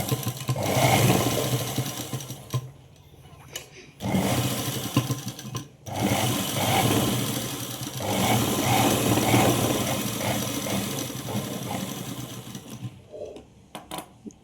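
A sewing machine stitches lining to the main cloth of a basket-style sleeve, running in long loud buzzing bursts separated by brief pauses, close up with no talking.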